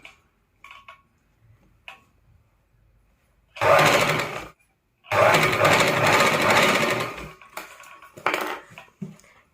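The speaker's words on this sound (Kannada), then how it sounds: "ಈ ರೀತಿ ನೀಟಾಗಿ ನಿಧಾನಕ್ಕೆ ನೋಡ್ಕೊಂಡು ಹೊಲಿಗೆ ಹಾಕೊಳ್ಳಿ." Sewing machine stitching a puff sleeve, heard in two sustained bursts of rapid mechanical running separated by brief pauses, with a few short clicks and taps of fabric handling around them.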